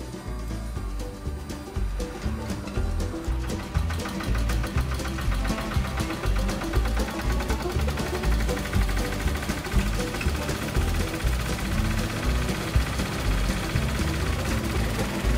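A tractor engine fitted with a radio throttle control runs steadily, its rapid knocking beat and vibration continuing without pause for about fifteen seconds, close by and with no talk.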